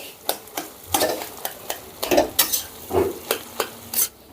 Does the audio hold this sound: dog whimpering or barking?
no